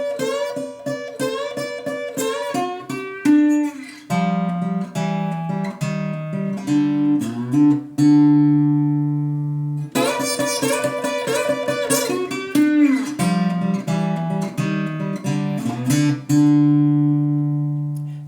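Delta blues slide guitar lick with bright, singing sustained notes and sliding pitch bends, played alone and clearly, first at a slow pace and then repeated up to speed after a short pause.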